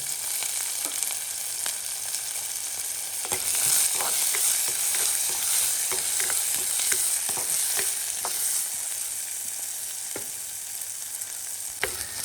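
Onions and garlic fry in a pan with a steady, close sizzle. Occasional light stirring scrapes and clicks sound over it, and no one talks.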